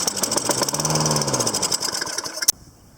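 Toro Recycler 22-inch lawn mower, model 20016, with a fuel-related fault, sputtering and knocking as it tries to start after carburetor cleaner, coughing unevenly for about two seconds before cutting out to near silence.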